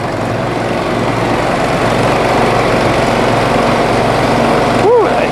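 The 37 HP fuel-injected engine of a HotJet 2 trailer-mounted jetter runs at a steady, loud drone close by, with a brief pitch sweep near the end as it is shut down.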